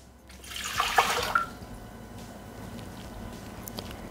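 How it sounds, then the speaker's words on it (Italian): Water is poured into a Thermomix TM6 mixing bowl in one short splashing gush lasting about a second, then fades to a faint trickle and quiet room noise. "Iniziamo la ricetta mettendo all'interno del boccale l'acqua"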